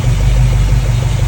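A 440 big block V8 in a '68 Dodge Charger, built with Edelbrock heads, stroker crank, rods, pistons and elevated compression, idling with a loud, steady low rumble.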